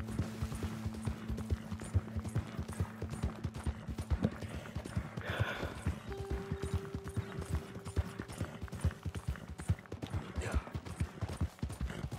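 A horse gallops in a video game, with a steady, rapid clip-clop of hooves repeating throughout at a moderate, fairly quiet level, accompanied by faint tones and a soft background hum.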